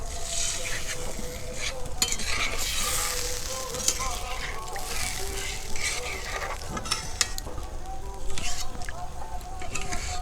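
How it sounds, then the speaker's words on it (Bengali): A spatula presses and stirs potato in a frying pan for a vegetarian omelette curry, giving a steady close sizzle broken by repeated scraping and pressing strokes against the metal. "এবার আলুটা ভালো করে দিয়ে দেবো খুন্তির সাহায্যে, একটু চেপে চেপে দেবো"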